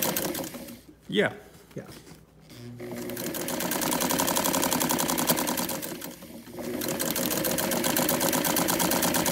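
A domestic sewing machine stitches a long, loose gathering stitch for an armhole, its fast steady whir running close and loud after a brief pause, with a couple of short spoken replies at the start.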